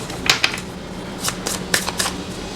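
Tarot cards are drawn one at a time from a deck, giving close, crisp papery snaps and flicks in small irregular clusters over quiet background.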